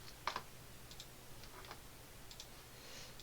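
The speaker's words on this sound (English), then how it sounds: "And if I type that into my calculator" Buttons pressed on a calculator while entering numbers, a handful of soft, quick plastic clicks in small clusters, fairly close and quiet.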